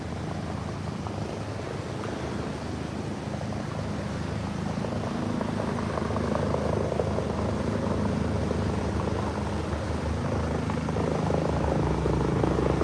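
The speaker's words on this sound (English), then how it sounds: "Helicopter's overhead" A swiftwater rescue helicopter drones overhead with a steady, heavy rotor and engine roar that swells slightly louder midway, continuous and fairly close.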